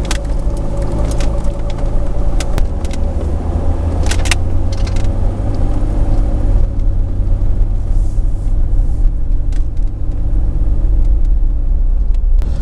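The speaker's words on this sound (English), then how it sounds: "Let's take it out for a quick spin." A car is driven on a test drive after its drive shaft U-joints were replaced, giving a steady, loud engine and road rumble throughout with a few light rattles and no talk.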